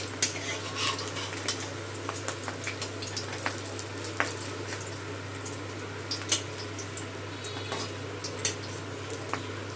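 Fish roe fritters fry gently in a pan over low gas, producing a soft steady sizzle with scattered light clicks of a utensil against the pan.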